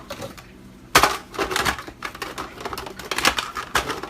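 Falafel mixture with baking soda is whisked in a bowl, a rapid, uneven run of close clattering strokes that starts abruptly and continues in bursts.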